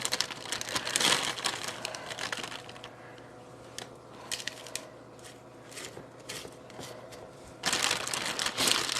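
A stuffed quart-size plastic zipper bag crinkling and crumpling close by, in bursts of dense rustling at the start and end, with sparser crackles and small clicks between.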